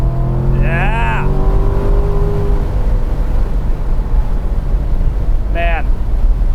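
Chevrolet Corvette C7 sports car accelerating hard, heard from inside the cabin as a loud, steady engine roar with two brief rising whines through the shifts and wind noise.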